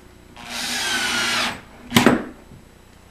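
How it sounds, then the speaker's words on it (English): Power drill driving screws into the side of a kitchen cooktop during assembly: one sustained whirring run of just over a second, then a short sharp burst near the end, close and fairly loud, with no talk. "Put those two screws into the cooktop from the side here."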